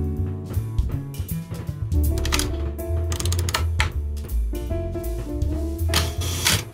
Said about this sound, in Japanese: 右にあるレバーを巻いて、